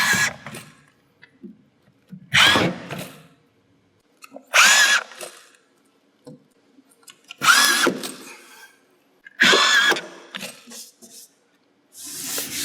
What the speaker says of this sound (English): I'll put some screws into it and put some pressure on that.